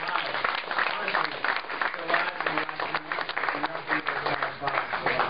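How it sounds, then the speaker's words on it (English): An audience applauds for a group at an event about a documentary, with dense, sustained clapping throughout and voices mixed in underneath. "so round of applause for them"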